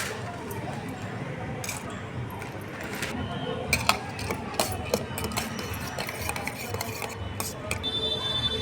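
A spoon stirs salted curd in a bowl while boondi raita is prepared, giving irregular light clicks and scrapes that grow a little busier in the second half over a steady low background hum.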